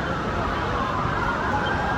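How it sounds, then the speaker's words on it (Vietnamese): A fire truck siren sounds at a building fire in Hanoi, a steady wailing blare heard continuously against dense street noise. "Xe cứu hỏa nó đang vào ngoại đằng này."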